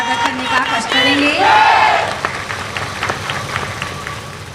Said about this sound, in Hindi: एक बार जोरदार तालियों से उसका वर्धन करने का कष्ट करेंगे।